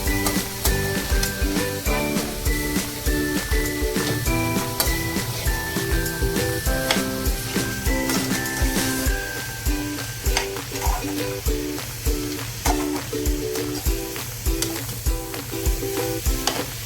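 Grated carrots for gajar halwa sizzle and soften in a pan over medium flame, a loud, continuous frying hiss broken by a steady rhythm of stirring scrapes, close and without talk.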